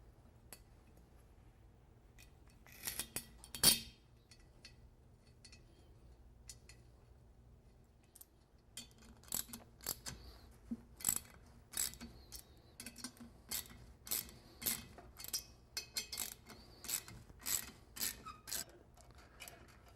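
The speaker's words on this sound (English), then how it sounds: "You just take two bolts, put them in there, tighten the bolts up, and as you tighten them, the drum will come off" Puller bolts being tightened by hand to draw a truck brake drum off, giving quiet metallic clicks and ratcheting ticks, sparse at first and then in a steady repeating series, close by with no talking.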